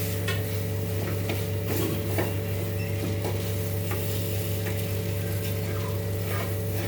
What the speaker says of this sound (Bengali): আলুটাকে খুব ভালো করে কড়াইশুঁটির সাথে ম্যাশ করতে হবে।